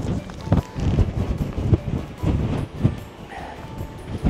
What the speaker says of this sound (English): you might get a bit of wind here